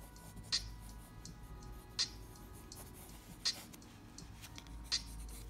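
Pencil strokes on paper sketching hair for a cartoon drawing, faint quick scratching with four sharp ticks spaced about every one and a half seconds, quiet and close.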